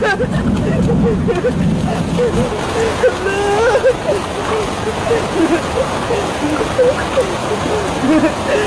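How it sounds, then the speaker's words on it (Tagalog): Steady, heavy rain roars across the whole stretch, with a busy wash of noise and faint voices mixed beneath it. "Ang lakas na ng ulan!"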